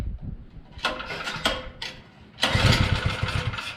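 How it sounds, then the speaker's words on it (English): A Kohler CH270 mini bike engine with a big exhaust is pull-started: a couple of raspy cranking pulls and coughs, then the engine catches and runs loud and steady, close up. "So we'll see if she'll fire up."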